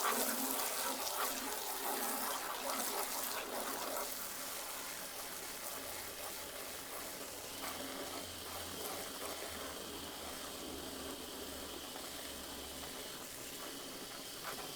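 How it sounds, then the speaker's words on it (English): A garden hose sprays a steady stream of water onto a car being washed with ceramic soap, a continuous hissing gush heard up close throughout. "let's see how it does with the Stream of the Garden hose"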